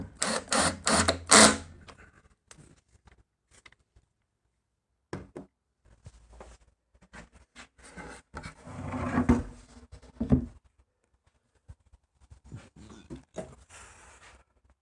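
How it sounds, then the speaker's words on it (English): A homemade wooden drawer slide for van bike storage is worked by hand, giving sharp wooden knocks and clacks at first, then sliding rubs and thumps scattered between quiet gaps. "And that is the completed drawer slide."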